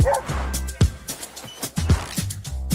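A dog in an advertisement gives a run of short, loud barks and yips, close up, with a few brief whimpering notes between them.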